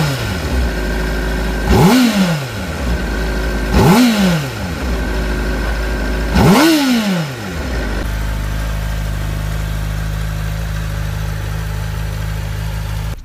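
A Honda CBR600RR-F5 sport motorcycle's inline-four engine revs sharply three times from idle, each blip rising and falling quickly, then settles into a steady idle, loud and close with no talk.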